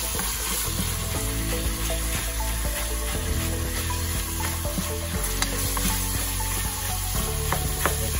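Ground chicken fries in a pan for a spaghetti sauce, giving a loud, steady sizzle and crackle that fills the whole stretch with no one talking.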